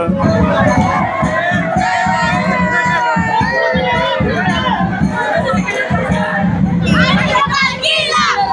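A lively crowd at a palkhi procession in Panvel Koliwada, voices of adults and children shouting and chattering close by with bursts of excited cheering, continuous and loud throughout.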